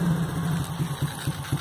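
Motorcycle engine idling steadily during carburetor adjustment, a close low mechanical drone with faint periodic surges in its rhythm, heard alone without speech.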